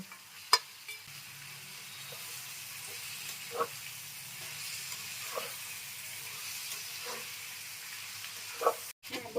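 Chicken pieces go into a hot frying pan and are stirred, with a low steady sizzle and occasional clacks of the spoon against the pan.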